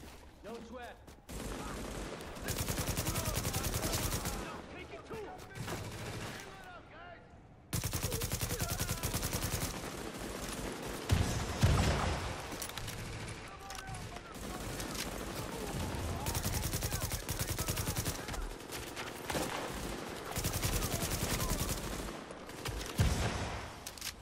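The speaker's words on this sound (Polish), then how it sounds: "Zajebiście się strzela, podoba mi się to strzelanie z tych przeszkód, za przeszkód." Rapid gunfire from behind cover in the shooter game The Division, with long dense automatic bursts broken by short pauses and a brief silence, loud and close, with faint voices underneath.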